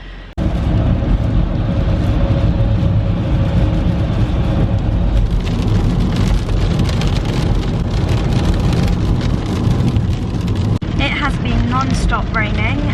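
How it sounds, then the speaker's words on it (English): Heavy, non-stop rain drums steadily on a car moving along a motorway, a dense constant wash of spray and road roar, with a brief burst of voices near the end. "Non-stop raining, and it was kind of hard on the motorway."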